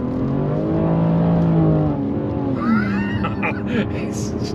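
A BMW M3 G80 accelerating on a slippery road, its engine note rising and shifting through a couple of pitch sweeps at light throttle, heard steadily from close by with a brief change partway through.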